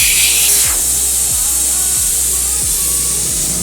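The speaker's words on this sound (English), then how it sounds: "So what's left to do is I still need to air down the tires" Air hisses loudly and steadily out of a truck tire being aired down for a trip to the dunes, a constant rush running the whole time with soft low thumps repeating about every two-thirds of a second.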